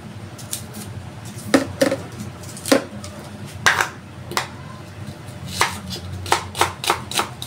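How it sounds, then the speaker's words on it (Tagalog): A knife chops ingredients such as onion and garlic on a cutting board for native chicken adobo: sharp, close, irregular strikes, about fifteen in all, some coming in quick pairs. "maghiwa-hiwa muna ako"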